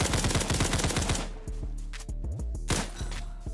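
Rapid automatic fire from an M4 rifle in the video game Criminality, a fast steady stream of loud close shots for about a second and a half, then several shorter bursts with brief gaps.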